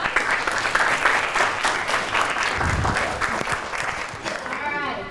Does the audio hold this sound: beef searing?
no